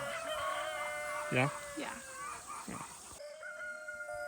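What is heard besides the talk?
chickens clucking and rooster crowing on a farm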